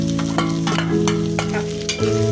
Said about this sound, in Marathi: सतत असं परतवत राहायचं